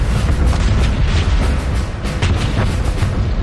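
German artillery fire in the pre-dawn Ardennes, a dense continuous rumble of booming guns and explosions, loud and sustained with overlapping blasts.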